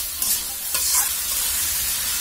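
Bottle gourd curry with chang fish sizzles in a pan while being stirred, a dense continuous frying hiss with a few scraping strokes early on, close and steady without any talk.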